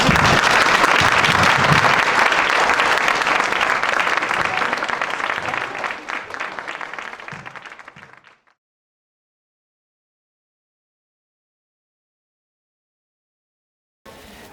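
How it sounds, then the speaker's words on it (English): Audience applause for city council candidates at a forum, loud steady clapping that thins and fades out after about eight seconds, followed by silence and a brief new sound right at the close. "And now you may show your appreciation for their eloquence by applauding."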